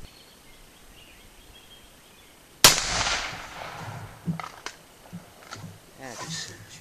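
A single sharp gunshot from a .357 Magnum revolver firing a cast bullet load cracks loudly outdoors, followed by a fading echo and brief talk from people nearby.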